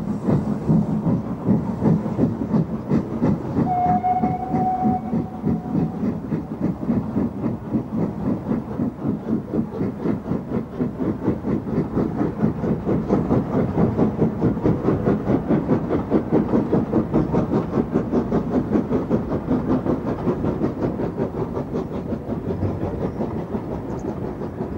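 LMS jinty tank steam locomotive running on rails, a continuous rhythmic clickety-clack of wheels with steady exhaust chuffing and a brief whistle early on, heard from on board at moderate volume with no voices.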